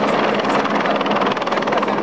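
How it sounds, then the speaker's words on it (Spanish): A police helicopter flies close overhead at an airport terminal during an emergency evacuation drill, its rotor chop loud, steady and rhythmic with no voices. "En menos de 20 minutos, el helicóptero de la policía realiza la primera evacuación."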